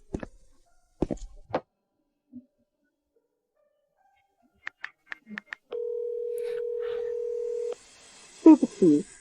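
A telephone number is dialed: a quick run of short keypad beeps is followed by a steady tone lasting about two seconds, set among scattered faint clicks, and a voice begins speaking at the end.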